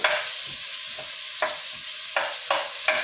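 Onions sizzle in a pan with leftover shrimp juices, a strong, steady frying hiss broken by a handful of sharp stirring scrapes at irregular intervals.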